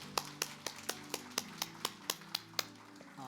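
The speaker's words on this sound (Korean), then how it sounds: "우리 하나님께 감사와 영광의 박수를 드리겠습니다" A church congregation at a Sunday service claps in a steady, evenly spaced rhythm, about a dozen crisp claps over sustained low organ or keyboard tones.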